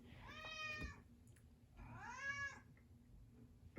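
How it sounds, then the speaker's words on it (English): A pet cat named Nikita meows twice, two clear drawn-out calls separated by a short pause, close by over a low background hum. "My cat Nikita decided she has a lot to say, as usual"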